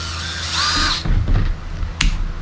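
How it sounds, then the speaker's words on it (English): A power drill whines briefly up close removing screws from a Shimano IX 4000R fishing reel, followed by clattering and knocking sounds and a short sharp burst near the end. "I got my trusty drill just to"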